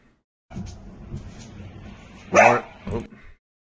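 A dog gives a few short barks and yips amid war combat footage near artillery positions in Horlivka, Ukraine. The barks are fairly close and separated by brief gaps, with a soft low rumble, then quiet.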